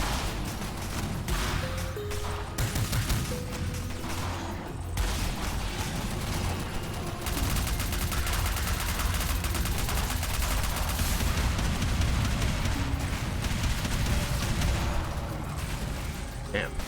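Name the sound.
gunfire from a video game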